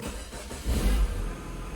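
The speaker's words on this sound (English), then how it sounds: "I lowered the car and now I'm going to start it" A 2016 Mini Countryman 1.6 automatic engine starts after the car is lowered, giving a brief low surge that settles into a steady idle rumble nearby, with no talk.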